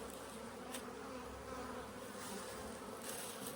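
Honeybees buzz around newly split hives holding mated queens, a steady faint hum with occasional closer passes, heard outdoors with no talking.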